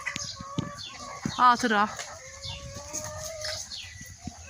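Hens on a farm where sheep are also kept cluck and cackle nearby in short bursts, with one louder squawking call standing out; a person speaks briefly over the birds.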